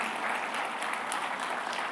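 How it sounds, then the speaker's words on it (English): At a festival closing ceremony after a highlight reel, a large crowd gives an even, continuous round of applause, distant and fairly soft, with no talk over it. "Please give a round of applause if you saw yourself on screen."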